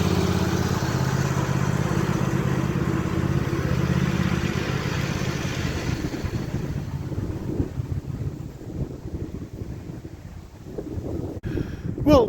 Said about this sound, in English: I'll get the little tractor pulled back in, get the grass emptied out